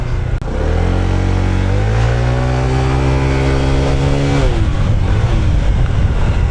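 A Honda ADV 160 scooter engine revs up loud and close, its pitch climbing steadily as it accelerates, then shifting and settling into a rough drone.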